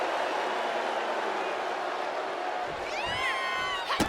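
Arena crowd in a WWE 2K25 women's wrestling match cheers steadily as a loud, continuous roar, with rising whoops and shouts near the end and a commentator's voice over it.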